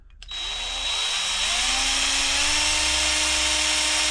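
A power drill spinning a Smiths chronometric speedometer whines steadily, its motor pitch climbing as it spins up and then holding a loud, continuous high-pitched hum.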